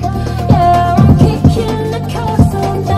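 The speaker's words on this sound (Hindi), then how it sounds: "और मैं गाना भी प्ले करता हूँ, आप सुन सकते" Music with a steady beat and sustained tones plays at a moderate level through an AERONS PowerPlus portable PA system, slightly boxy as if through a loudspeaker, with no talking.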